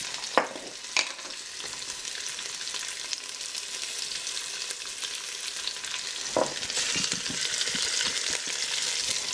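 Skinless chicken sears in olive oil inside an Instant Pot, giving a soft continuous hiss with a few sharp clicks and taps early on, and the sizzle swells louder toward the end.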